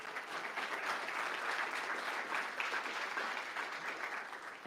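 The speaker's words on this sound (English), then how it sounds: "I'd like to give one more big round of applause to all of our projects." Audience applause at a general body meeting, sustained and steady clapping from a crowd filling the room, loud and continuous throughout without talk.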